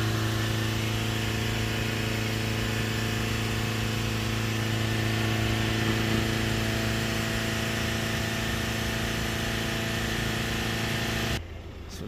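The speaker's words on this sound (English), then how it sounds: "Let that idle for a minute" A diesel van engine with a DPF problem idles steadily, a constant close low rumble with a tonal hum that holds even for about eleven seconds before dropping suddenly in level.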